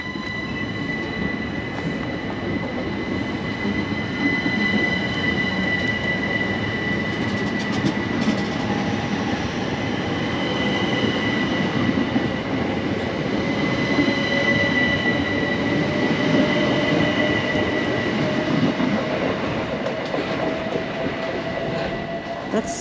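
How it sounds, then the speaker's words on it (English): A Southeastern train departing Margate station rumbles loud and steady for over twenty seconds, with thin wheel squeals and faint rail clicks running through the continuous rolling roar. "Alright, so now this train is leaving for Charing Cross via Dover."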